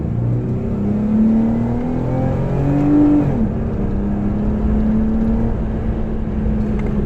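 A 2016 Jeep Wrangler with a 5-speed automatic shifted manually accelerates from inside the cabin. The engine drones steadily and climbs in pitch through a gear, dips at a shift, then pulls again at a moderate, even level.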